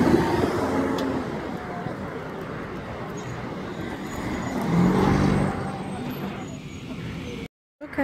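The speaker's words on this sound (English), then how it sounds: "not exactly peaceful because of the cars that are driving by" Cars driving past on a road, a steady broadband traffic rumble throughout with one louder vehicle passing near the middle, and a brief drop to silence near the end.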